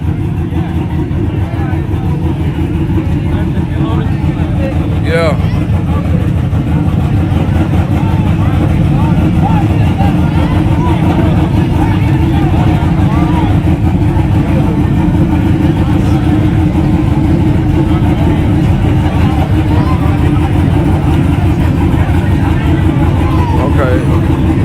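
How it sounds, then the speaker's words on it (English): A heavy engine rumbles and revs continuously nearby, with a brief spoken word over the steady low drone. "You hear that truck over there? You hear that truck? How mean it sound?"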